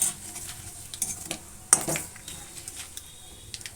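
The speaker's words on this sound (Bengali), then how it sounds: "ভালো করে নাড়াচাড়া করে আমি 5 ফোড়নটা ভেজে নিলাম।" Panch phoron whole spices fry in a pan while being stirred, with a soft sizzle under scattered scrapes and metallic clinks of the spoon against the pan, close by and without speech.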